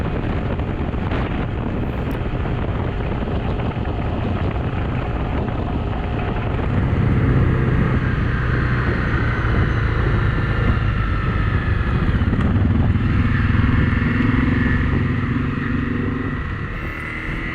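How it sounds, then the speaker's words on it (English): A fully loaded CRF 250 motorcycle cruising at about 70 miles an hour on a road, a steady engine drone buried in loud, constant wind rush over the microphone. "the little CRF 250 will cruise at 70 miles an hour, fully loaded"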